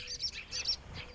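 Birds chirp in short high bursts, a few quick tweets in the heat of the day, faint and fairly distant over a quiet background.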